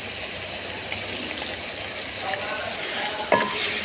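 Masala frying in a pot for shahi chicken korma, a steady close sizzle with light stirring and a faint clink near the end, and no talking.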